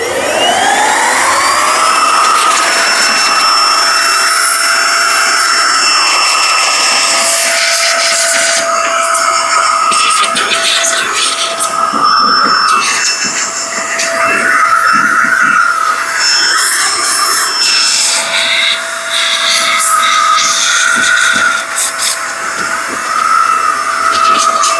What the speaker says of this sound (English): Finally get to test this little blower thing.